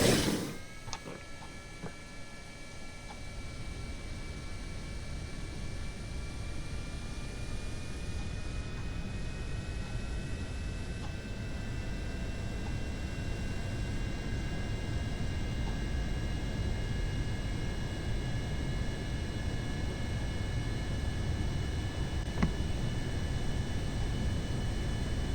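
The Atlas 7 LR long-range aircraft in Kerbal Space Program roars down the runway and climbs away, a steady loud engine hiss with rising tonal whine that holds continuously for the whole takeoff.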